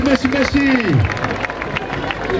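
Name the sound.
audience applause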